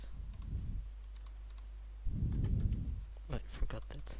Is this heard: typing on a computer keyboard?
yes